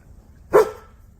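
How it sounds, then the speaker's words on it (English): A single sharp dog bark rings out close by in a quiet indoor space, brief and loud, with nothing else around it. "she wants to go outside and run around and bark"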